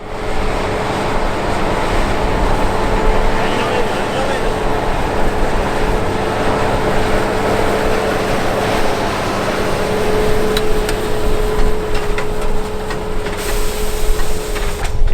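A tractor pulling a straw baler presses straw in a summer field on the plain, giving a steady, loud, close engine drone with a constant mechanical hum that continues unbroken throughout.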